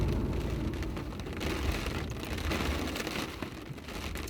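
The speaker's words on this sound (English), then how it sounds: "There's a lot of rain." Heavy rain drums steadily on a parked car, a dense close roar of droplets on the body and roof with a low rumble underneath and no talking.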